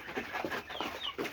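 Laying hens cluck on a small family farm in a run of repeated, close, short clucks with brief pauses between them.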